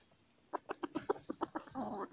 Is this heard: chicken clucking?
yes